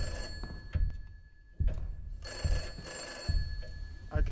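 A telephone bell rings inside a Roblox horror game, repeated bursts of ringing across several seconds over low background rumble and ambience, no talk.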